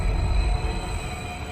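A train runs steadily in the video game Wuthering Waves, a continuous close rumble of rolling wheels with a faint high whine, no voices.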